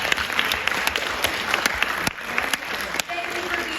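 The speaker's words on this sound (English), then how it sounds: "Everyone, please give Isaiah another round of applause." An audience claps in a comedy studio, dense applause with sharp individual claps standing out, steady throughout and briefly dipping near the end.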